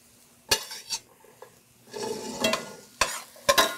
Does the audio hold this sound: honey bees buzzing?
no